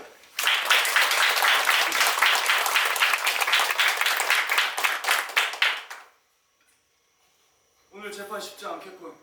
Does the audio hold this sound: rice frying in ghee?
no